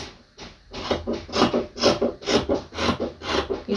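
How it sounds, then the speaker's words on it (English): Scissors or shears cutting through fabric for a pencil skirt, a run of repeated rhythmic rasping snips, close and moderately loud, with no speech. "So this is how you cut the back, following the 1 inch mark"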